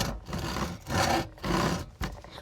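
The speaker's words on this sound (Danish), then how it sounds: "Så begynder du at save i den anden" A hand saw cuts through wood for a wooden phone holder, making several close, rasping back-and-forth strokes with short pauses between them. No one speaks.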